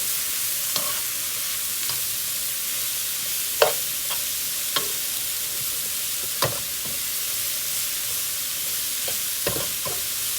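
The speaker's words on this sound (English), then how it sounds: "A little bit frying." Escovitch sauce of sweet peppers, onion, Scotch bonnet and carrot fries in a little oil, giving a steady soft sizzle with occasional light clicks of stirring.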